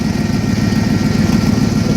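A 1990 Ford F250 pickup's engine idling steadily and a little rough, a close, continuous low rumble with a slight uneven pulse and no voices.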